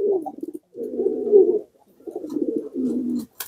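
Pigeons cooing up close, a run of low throaty rolling coos in two longer bursts separated by a short pause, with no one talking.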